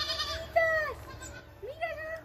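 Sheep bleat on a sheep farm, two or three wavering calls close by over a low rumble of background noise.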